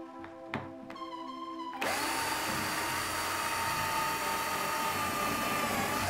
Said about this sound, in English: this is real time, and this is how long it takes to put 5 holes in here